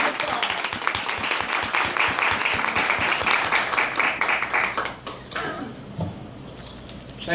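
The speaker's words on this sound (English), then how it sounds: "Give him a round of applause." Audience applause at a business luncheon presentation as a presenter is called to the stage: dense, steady clapping for about five seconds that then thins out and fades.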